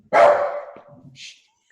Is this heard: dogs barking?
yes